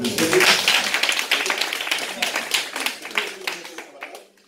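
A church congregation at an evangelistic service claps, a busy patter of many hands that gradually fades, with voices mixed in underneath.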